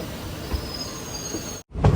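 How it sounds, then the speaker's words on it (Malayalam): A train pulls into Tenkasi railway station with a steady close rumble, then a brief drop in sound before a louder burst of noise. "തെങ്കാശി റെയിൽവേ സ്റ്റേഷനിലേക്ക് ട്രെയിൻ എത്താനായി"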